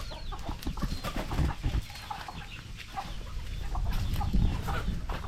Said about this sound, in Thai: นี่คือไก่ป่าที่ตัวจับได้